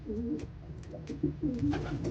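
Racing pigeons cooing softly up close in a loft, low throaty burbling calls repeating in a gentle rhythm, with faint flutters and taps in the background.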